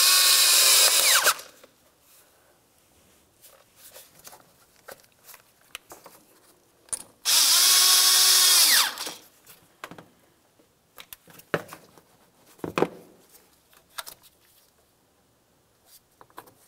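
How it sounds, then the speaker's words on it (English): A power tool tightens hose clamps on the air box of a 1998-2002 Lincoln Navigator, two loud close bursts of whirring separated by quiet stretches with small clicks and handling noises. "tighten each of the clamps"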